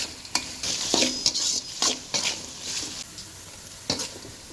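Green chillies and turmeric powder sautéing in a pan, a steady close sizzle broken by repeated sharp scrapes and stirs of a spoon against the metal, with no one talking.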